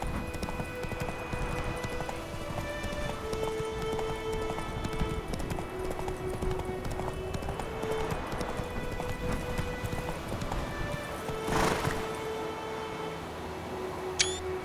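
A horse gallops in the video game The Witcher 3, its hooves clip-clopping in a steady rhythm over a constant background of ambient game sound, with a brief louder burst near the end.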